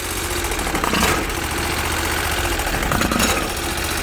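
Briggs & Stratton 20HP V-twin engine on a Bolens 1600H tractor, running with an uneven surge that swells and dips twice in a steady, loud, close mechanical drone.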